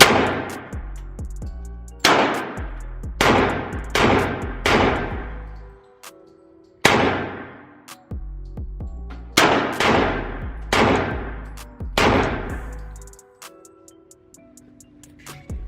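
Pistol shots at a shooting range, Glock and Taurus handguns, crack out loud and close in short volleys of two to four, each with a ringing metallic tail and pauses between strings.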